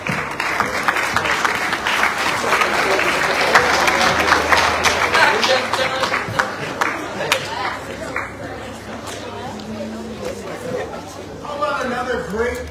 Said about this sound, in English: How about another great round of applause for this awesome music department?